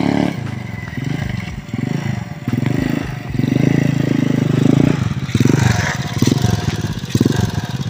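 A heavy engine like a big motorbike revs in uneven bursts, rough and loud up close, with clattering and scraping mixed in.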